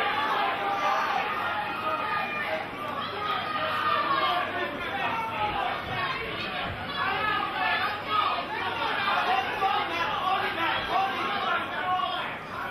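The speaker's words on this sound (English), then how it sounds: "Both corners shouting instructions to each fighter." Dense shouting and chatter from corner teams and a roaring crowd at a UK boxing fight, Clarkson vs Howard, a steady loud wall of overlapping voices with no clear single words.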